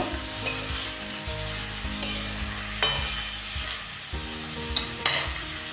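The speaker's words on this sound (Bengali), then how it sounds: "এবার একটু ভালো করে মিশিয়ে দেব" Coarsely cut spinach hisses in a hot pan while a utensil stirs it, with several sharp metallic clinks against the pan at irregular intervals over a steady sizzle, close by and without talk.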